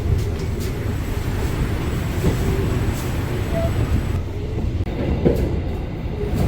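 Steady, loud rumble and rattle inside the accordion-sealed gangway connection of a moving Jayabaya passenger train, continuous throughout with faint wheel clatter; a voice briefly speaks near the end.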